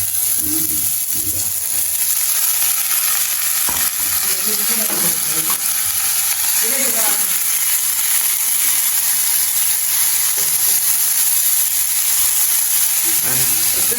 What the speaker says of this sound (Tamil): பைத்தங்காயம் போட்டோம் சேர்ந்து வதங்கட்டும்.